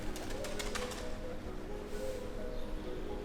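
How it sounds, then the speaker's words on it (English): Soft, repeated cooing of pigeons in a quiet outdoor setting in a small, tranquil Spanish town, with faint rustling in the background and no talking. "Other than a few pigeons"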